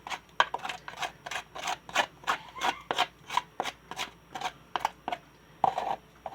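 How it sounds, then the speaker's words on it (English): A hand tool scrapes a cold, gooey material into place in a quick series of short rasping strokes, about two or three per second, close and fairly quiet with no talking. "You just kind of scrape it on in there"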